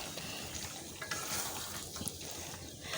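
Bean seeds going into duck meat braising in a pan, with continuous close sizzling and frying plus stirring and scraping, a few small clinks of utensil on the pan.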